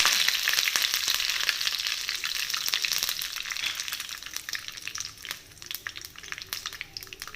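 Curry leaves hit hot coconut oil in a pan where mustard seeds have already popped, giving a loud, steady hiss of frying with sharp crackles and spits throughout, easing slightly toward the end.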